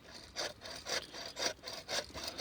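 Hand saw cutting through wood for a half-lap joint at an outdoor bivouac, with steady back-and-forth rasping strokes, roughly five even pulses, quiet and close.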